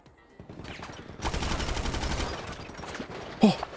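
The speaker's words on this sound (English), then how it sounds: "They're taking pop shots at us." Gunfire in the GTA 5 roleplay game, a rapid sustained burst of automatic shots lasting over a second, followed by scattered lighter pops and one sharp louder hit near the end.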